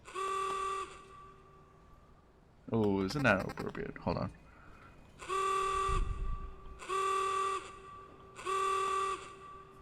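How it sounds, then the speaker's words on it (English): A car horn in Need for Speed Heat honks several times in short, evenly spaced blasts, with a person speaking briefly between the first honk and the rest. "fix that by applying the appropriate horn sound"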